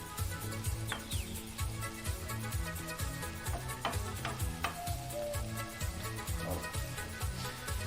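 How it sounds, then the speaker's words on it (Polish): Food sizzles and crackles steadily in a hot pan while a meatless Chinese-style dish fries, with a few clicks and scrapes of stirring. "No już ładnie się smaży."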